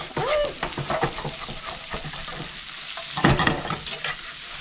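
Potatoes with kielbasa and bell peppers frying in a pan, stirred and scraped off the bottom: close, steady sizzle punctuated by repeated scraping strokes and a sharper clatter near the end.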